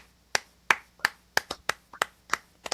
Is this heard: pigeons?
no